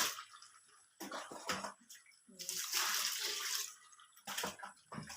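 Kitchen water running and splashing during washing, in bursts of hissing flow separated by short pauses, fairly close, with a brief cough-like sound between them and no clear talk.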